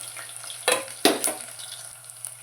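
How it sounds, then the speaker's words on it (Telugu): Spices for tempering sizzle softly in oil in a pan, broken by a few sharp crackling bursts as they are stirred, with no voices. "పోపు అయితే చక్కగా వేపేసుకున్నాం ఫ్రెండ్స్"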